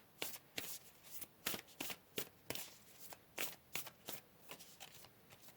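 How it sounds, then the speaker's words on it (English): Tarot cards are riffled and shuffled close up in a quick, uneven series of crisp flutters and slaps, soft in level and with no talking. "Let's pull a couple more cards."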